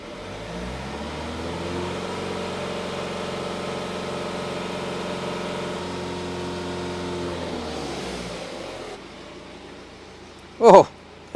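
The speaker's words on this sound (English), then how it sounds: "So let's give it a bit of a rev." BMW 3 Series diesel engine revved and held at roughly 2,000–3,000 RPM during in-situ DPF cleaning, a steady loud harmonic drone for about eight seconds that then drops away, followed by a couple of brief sharp bangs.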